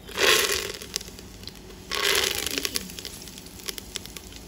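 Fresh curry leaves hit hot sesame oil and crackle loudly twice, each burst fading into lighter spitting and popping, for a Pallipalayam mutton fry curry.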